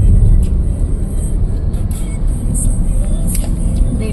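A car speeds along a road, its engine and tyre roar a steady loud rumble from inside the vehicle, with faint light clicks above it.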